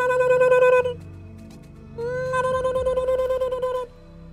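A voice mimics a telephone ringing with two sustained, warbling tonal trills, each cut off abruptly, separated by a short pause.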